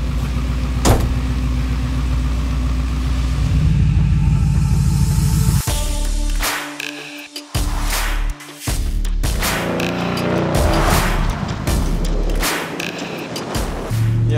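A muscle car running an Edelbrock Pro-Flo 4 EFI system sets off on a drive: a steady engine drone with door thumps and clunks, then the motor pulling and rolling along close to the mic.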